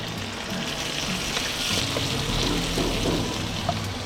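Garlic, onion and ginger sauté in hot oil with a loud, continuous sizzle and spattering hiss, with faint stirring beneath.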